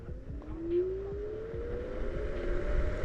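JOYOR Y6 S electric scooter accelerating at full throttle uphill, a steadily rising electric motor whine over rumbling wind and road noise, moderately loud and close.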